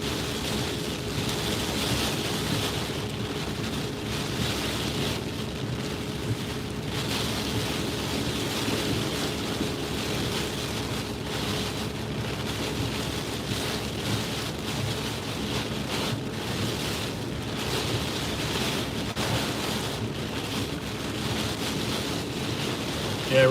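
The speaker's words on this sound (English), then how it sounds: "I've never seen a hurricane come ashore and still dump rain now 10 hours after landfall" Heavy Hurricane Florence rain and wind while driving, a steady dense roar of rain pounding the vehicle with a constant low rumble, unbroken and loud throughout, no voices.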